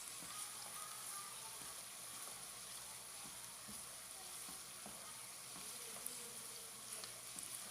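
Green chilies fry in a pan of oil for a mutton karahi, a soft, continuous sizzle with faint crackles and occasional stirring clicks, close by and without any talking.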